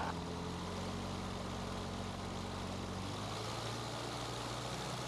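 Small propeller training airplane engine running steadily while taxiing on the ground, a continuous droning hum with a low rumble that holds even throughout, heard alone without talk.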